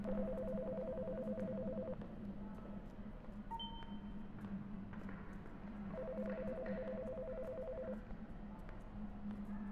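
A telephone rings in the video game Until Then, two long electronic ringing bursts separated by a pause, moderately loud over a low background hum, with a couple of brief beeps in between.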